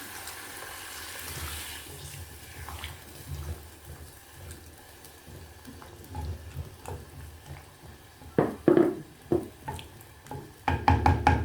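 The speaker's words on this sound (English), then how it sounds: "we can add our water now" Water pours into a cooking pan of pumpkin and potatoes for baby food, a soft trickle and splash that builds into louder bursts of sloshing and bubbling near the end, with no speech.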